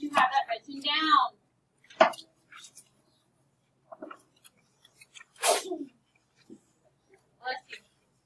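A sneeze in a quiet classroom setting, one sharp burst near the start, with scattered soft voices, whispers and small incidental noises afterward.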